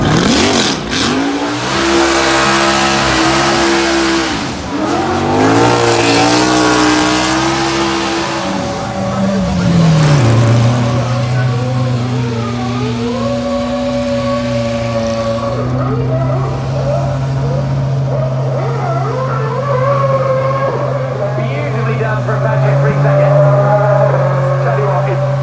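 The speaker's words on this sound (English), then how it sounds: "new car makes a fantastic noise as he heads up past the 2012 Red Bull" A 2012 Red Bull Formula 1 race car drives past on the hill at the Goodwood Festival of Speed, its loud engine revving and rising in pitch, then holding a steady drone as it passes close by, with crowd noise behind.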